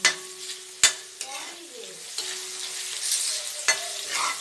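Onions frying with ginger paste and chopped garlic for a drumstick masoor dal, stirred steadily in a hot pan: a continuous sizzle broken by a few sharp spatula knocks, with no talking.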